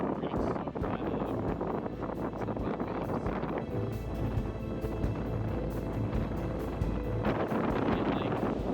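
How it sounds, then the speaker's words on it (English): Strong offshore wind of around 35 knots buffets a boat in the Gulf Stream, a loud continuous roar with wind gusts hitting the microphone and waves splashing against the hull. "I think we got 35 knot winds. Gusts higher than that."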